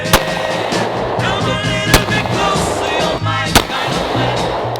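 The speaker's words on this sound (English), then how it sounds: "I'm terrible at shooting handguns." Three sharp handgun shots ring out at spaced intervals outdoors, loud and close, with a steady rumbling background between them.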